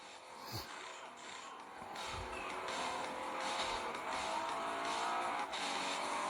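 Racing car in a video game drifting through a race, with a steady engine roar and skidding tire squeal building louder across the stretch, a brief sharp squeal near the start.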